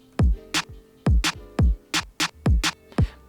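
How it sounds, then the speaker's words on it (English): Drum and bass beat programmed in Ableton: punchy booming kicks alternating with sharp bright snares in a brisk, regular pattern, about six hits of each, loud and clean with no talking. "just the regular drum and bass kick snare option."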